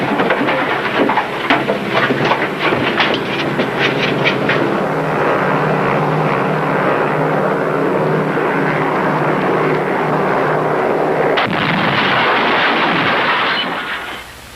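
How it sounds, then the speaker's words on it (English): Radio-drama effect of a plane exploding in the air: a loud, dense roaring blast with crackling bursts early on, a sustained rumbling wash, then a fresh surge before it fades out. "The American plane which was carrying our president, our First Lady, and General Roberto O'Hara has exploded over the mountains."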